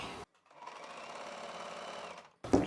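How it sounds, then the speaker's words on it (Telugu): A sewing machine stitching poncho fabric runs in a steady, close mechanical whir for under two seconds, bracketed by brief handling noises before and after. "ఇప్పుడు ఈ ఎక్స్ట్రా జాయింట్ చేసిన పీస్ని ఇలా పై వైపునకు తీసుకొని పైన ఇంకొక కుట్టు వేసుకోవాలి"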